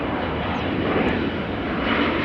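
A KLM Embraer 195 jet airliner at Amsterdam Schiphol gives off a loud, steady broadband engine roar that holds without a break for the whole stretch, fairly close, with no talk over it.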